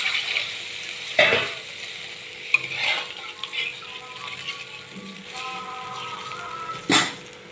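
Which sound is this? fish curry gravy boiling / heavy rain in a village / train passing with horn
fish curry gravy boiling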